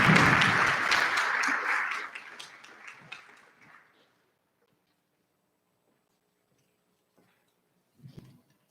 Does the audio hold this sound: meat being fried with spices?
no